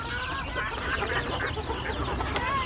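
Desi hens and 24-day-old chicks cluck and cheep continuously at close range, a busy overlapping chorus with no talk.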